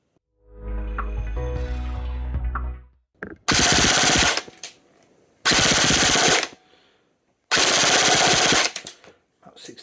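An E&C Strike Patriot PDW airsoft gun fires three loud full-auto bursts of rapid clicking shots, each about a second long, preceded by a motor whir.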